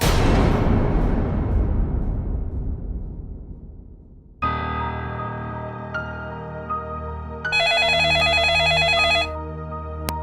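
An old-style telephone bell rings in a rapid metallic trill after a fading crash of noise and a low electronic hum.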